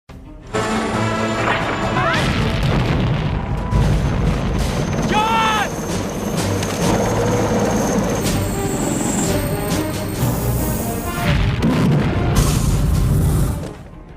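Explosions from Rambo's explosive arrows in an action film: loud, heavy booms and crashes in a dense, continuous barrage, with whooshes and a brief high whine near the end, under a narrating voice.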